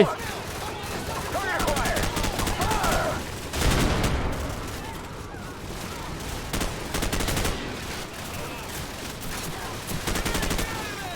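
Dense, sustained gunfire from Call of Duty Modern Warfare: rapid automatic bursts and heavy blasts rolling on almost without pause, with a louder explosive surge partway through, loud and close.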